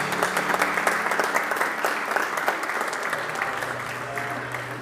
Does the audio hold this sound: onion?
no